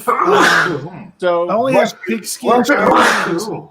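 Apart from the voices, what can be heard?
sneeze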